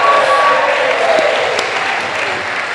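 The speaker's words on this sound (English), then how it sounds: "those guys deserve another big round of applause" An audience at a school spring athletic assembly applauds, a dense, steady wash of clapping filling the room throughout.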